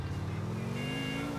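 A car engine in the video game GTA IV, a steady low drone with a slowly rising pitch as it drives. It sounds close and moderately loud, with no talk.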